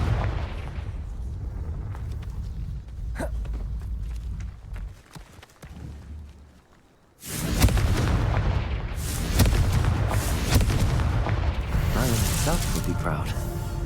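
A Confringo spell blast in Hogwarts Legacy erupts as a sudden heavy boom after a quieter stretch, followed by loud rumbling and crackling debris that carries on for several seconds, with a voice speaking before it.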